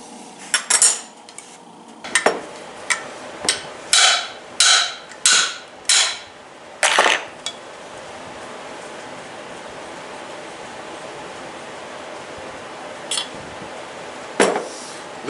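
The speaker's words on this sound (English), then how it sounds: "I got to press the crankshaft now out of this side" Crankshaft pressed out of a Stihl 036 chainsaw crankcase: a series of sharp, close metallic clanks and knocks in quick succession, then a quieter steady background and two isolated clicks, no talking.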